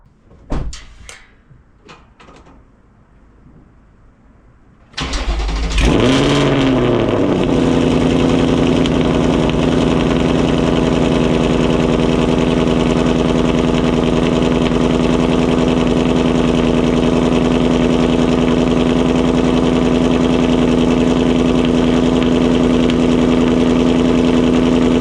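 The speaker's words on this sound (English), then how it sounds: "that was a cold start in normal mode." A 2024 Mustang GT with a Corsa Extreme active exhaust, in normal mode, cold-starts after a few quiet clicks and a door sound. The engine cranks, flares loudly, then settles into a loud, steady idle for the rest of the clip.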